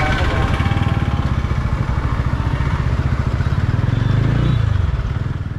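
A TVS Ronin motorcycle out on a showroom test ride idles and revs nearby with a rapid, steady thump that swells toward the end, while someone talks over it.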